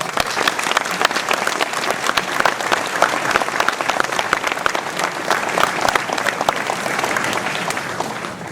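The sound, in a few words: audience applauding the police forces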